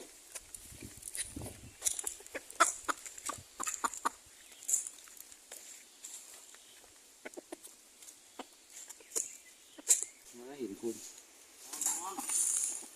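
Wild junglefowl cluck in intermittent short bursts at moderate distance, scattered across the recording, with some outdoor noise and occasional voices in the background.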